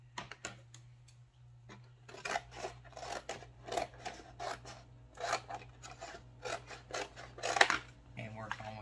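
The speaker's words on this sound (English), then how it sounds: "now I'm going to literally just cut the box in half" Scissors or a blade cutting a cardboard box in half for a Christmas mystery box craft, giving a run of close, rasping snips and crunches that come in rapid bursts over a steady low hum.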